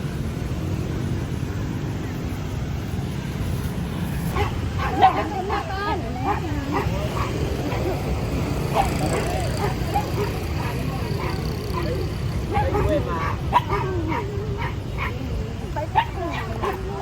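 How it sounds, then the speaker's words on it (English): Several dogs bark and yip repeatedly at a park in Hanoi at night, their calls scattered across the scene beneath a constant murmur of crowd chatter and distant traffic. "We got a dog ambush at the park."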